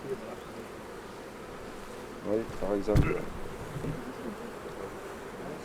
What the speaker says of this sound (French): ce sont de très jeunes abeilles qui viennent de naître